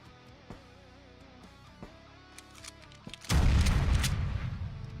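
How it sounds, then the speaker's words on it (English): In the tactical video game Quasimorph, a few faint thumps and clicks give way to a loud explosion burst, followed by a dense crackling roar of debris and gunfire that slowly tapers off. "My explosion went off."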